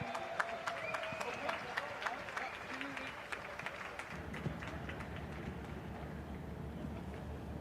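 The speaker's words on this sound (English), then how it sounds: "Big round of applause, everybody." Applause at the trophy presentation after the Michelin 6 Hours of Abu Dhabi endurance race, a crowd clapping steadily throughout with scattered talk and voices over a low rumble.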